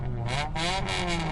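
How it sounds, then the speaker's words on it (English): Loud, sustained engine revving at night in dark woods, several motors roaring together in a steady continuous wash with rising and falling surges. "All at once, that small light turned into multiple blinding lights and extremely loud revving sounds"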